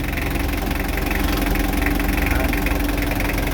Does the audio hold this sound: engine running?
yes